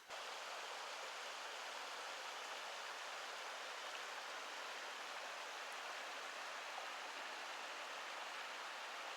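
Junction Creek flowing beside the Colorado Trail, a steady unbroken wash of rushing water, close and fairly loud, with no voices.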